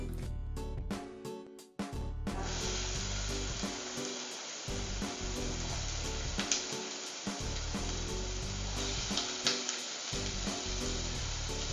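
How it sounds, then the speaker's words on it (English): Onions hit hot olive oil in a saucepan over medium-high heat, starting with a few clunks and handling knocks before a loud, continuous sizzle takes over with occasional pops. "To my saucepan, I'm going to add 1 tablespoon of olive oil, and I'm just gonna heat that up to medium-high heat. And then I'm gonna add my onions to it."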